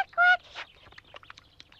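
A cartoon duck quacks in an animated Pinocchio story, one loud nasal honk followed by a run of softer chattering, clucking calls, close and without other talk.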